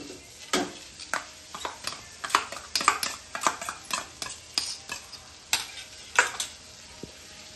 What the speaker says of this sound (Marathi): ते आता मी फोडणीला टाकणार आहे याच्यामध्ये